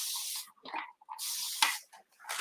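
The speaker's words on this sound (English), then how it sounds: "We need to give it another little spray underneath because the paper's quite dry there" Several short hissing bursts from a hand spray bottle misting water onto dry Luxe wallpaper beneath a set of drawers, close and fairly quiet, broken by brief pauses.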